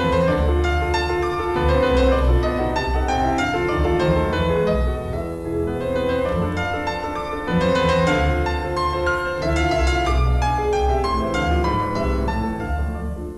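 A dance-like phrase from the second movement of Brahms's Piano Concerto No. 2 plays in full orchestral texture with piano, lively and loud throughout, with a brief dip midway and no voices.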